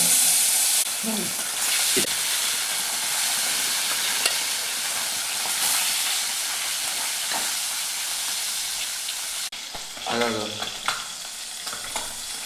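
Sea fish frying in hot oil gives a steady, loud sizzle that runs almost the whole time, with brief stirring knocks and a short break near the end before the hiss resumes.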